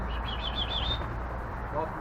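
Birds give a quick run of high chirps at sunset, faint and brief against a low background rumble.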